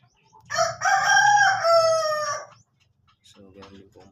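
A Texas fighting rooster kept as a gamecock crows once, loud and close, a long strained call of about two seconds, followed by a short softer clucking sound.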